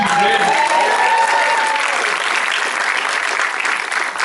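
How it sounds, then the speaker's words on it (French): Cinema audience applauding Fadily Camara at a special screening, loud sustained applause with cheering and a whistle early on, gradually easing. "On peut l'applaudir,"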